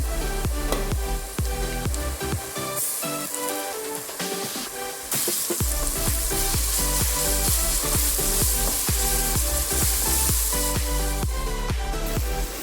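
Coarse ginger garlic paste fries with sautéed onions in a pan for mutton biryani, a loud continuous sizzle and crackle that surges louder partway through, with stirring, near and unbroken.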